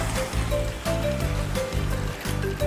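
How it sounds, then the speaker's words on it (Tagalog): Sea waves wash onto a beach in a constant, rough, close-up roar of water, with a low steady hum underneath. "Dito tayo ngayon sa may dagat."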